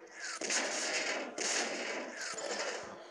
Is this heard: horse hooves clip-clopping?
no